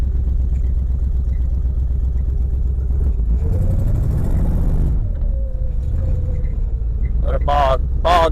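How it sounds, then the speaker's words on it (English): A 1968 AMC Javelin, abandoned for decades, running while being driven around a yard, its engine a loud steady rumble that swells mid-clip, with brief squeaky sounds near the end. "Engine and transmission is healthy."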